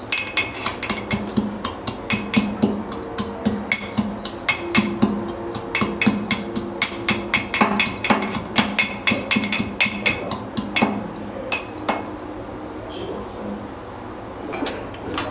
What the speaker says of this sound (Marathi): आपण आता हे लसणाच्या पाकळ्या कुटून घेऊयात व्यवस्थित